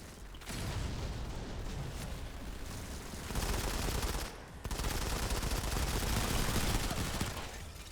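Continuous rapid gunfire from a PC shooter video game, a dense, loud barrage of automatic shots and blasts that runs almost without break, dipping briefly once before resuming.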